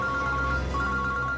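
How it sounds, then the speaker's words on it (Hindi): A mobile phone ringtone plays loud and steady, a sustained electronic melody filling the short moment without talk. "ये मेरा ही फोन है सर"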